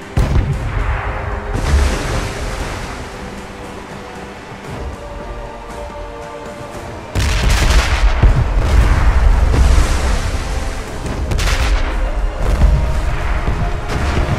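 Heavy ship cannon fire booms in ArcheAge amid a rushing, rain-like roar, with a loud burst of blasts midway that keeps the din dense and thundering.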